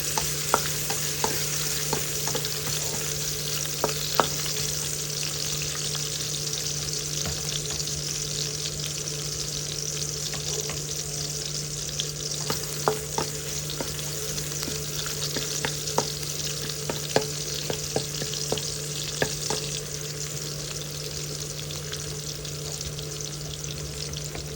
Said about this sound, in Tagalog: maggigisa tayo ng bawang